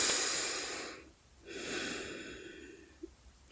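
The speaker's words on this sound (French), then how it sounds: "prit une grande inspiration" A deep breath drawn in, heard close and breathy: two long airy inhalations separated by a brief pause, followed by a faint soft click at the end, with no talking.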